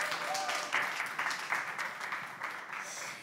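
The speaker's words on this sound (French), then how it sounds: "Est-ce qu'on peut encore les applaudir?" An audience at a talk event claps for the performers, a short burst of fairly faint crowd applause that fades out over about three seconds.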